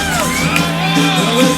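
A loud, close crowd at a live tribute concert in a Zaragoza bodega, cheering with whoops, shouts and yells in a dense, continuous roar.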